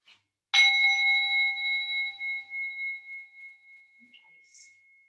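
A small bell struck once during a yoga class, its clear ringing tone sustaining and slowly fading over several seconds in an otherwise quiet room.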